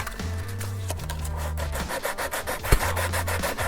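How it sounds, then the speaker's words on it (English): Steady back-and-forth rubbing of 120 grit sandpaper on a plastic part of a 1:350 Enterprise Refit model kit, close and continuous with a rhythmic scraping pulse and no voices. "The rest is pretty much done from sandpaper. I'm going to start using with like 120 just to get it even closer."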